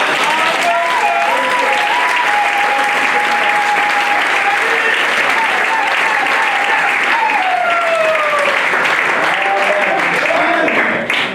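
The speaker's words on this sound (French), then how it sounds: "Applaudissons la parole." A church congregation at a French-language sermon breaks into loud, sustained applause that fills the whole stretch evenly, with sustained musical tones and a voice gliding along underneath.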